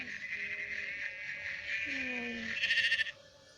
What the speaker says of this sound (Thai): ฟาร์มแกะ